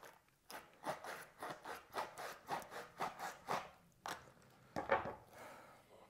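Tiny hand saw taken from a toolbox, cutting with about a dozen quick, evenly spaced rasping back-and-forth strokes, close and clear, with a short pause before a final few strokes.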